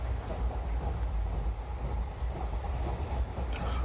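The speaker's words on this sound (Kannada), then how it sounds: "ನಮ್ಮ ಟ್ರೈನು ಪ್ಲ್ಯಾಟ್ಫಾರಮ್ ನಂಬರ್ ಎರಡಕ್ಕೆ ಬಂದಿದೆ" An Indian passenger train at Hassan station, platform two, heard from on board as a low, steady rumble with faint rattling and clatter.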